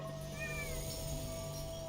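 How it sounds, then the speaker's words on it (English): A cat meows faintly in a video game, under steady tonal background music. "I did not realize that it actually meowed."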